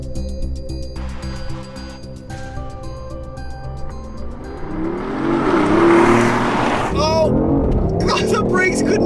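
BMW i8 and Tesla launching side by side with launch control in a drag race against a V8 Vantage and C8 Corvette: a steady engine hum swells into a loud rising acceleration roar with whining sweeps, under continuous talk.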